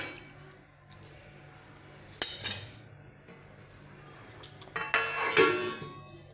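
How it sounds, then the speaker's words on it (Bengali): A spoon stirs banana-flower curry (mochar ghonto) in a cooking pan, with two clattering bursts of metal scraping and knocking against the pan amid quiet, wet background noise. "এটাকে একটু পর পর নেড়ে দেবো"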